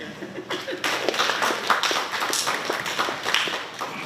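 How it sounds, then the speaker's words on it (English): An audience at a road infrastructure project event claps for a speaker, a moderate wash of applause that swells after a quiet start and stays fairly even, with individual claps standing out. "Please give him a big round of applause."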